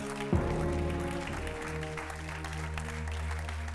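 A church congregation applauds loudly and steadily, praising the Lord during a sermon, with a dense clapping wash that carries on alongside sustained music and tones throughout.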